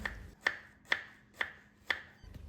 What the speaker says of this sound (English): I cut onion and garlic